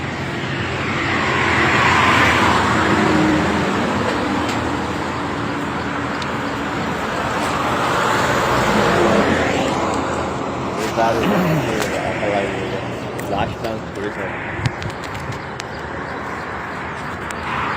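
A truck hauling cattle bones to a sugar factory near Nagamangala rumbles along a road, its engine and road noise swelling and fading close by while someone talks over it throughout.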